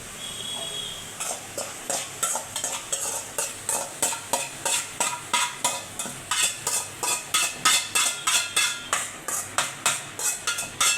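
Tempered spices are stirred into cooked drumstick leaves, with a spoon scraping and tapping the pot in a fast, even rhythm over a faint sizzle, close and without talk.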